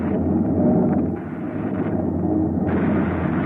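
Sci-fi radio drama weapon blast: a sustained, loud, rumbling roar that fills the whole clip, swelling and shifting in texture without any clear separate shots, with no voices heard.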